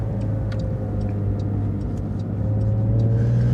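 A 992 Porsche GT3 Touring engine with a titanium exhaust idles and revs with a deep steady exhaust rumble that swells slightly toward the end.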